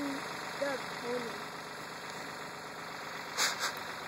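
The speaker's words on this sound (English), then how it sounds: "I'm gonna back this tractor down here" Tractor engine idling on a farm, a steady low mechanical hum with a faint rhythmic knock, heard under a voice and brief higher chirps.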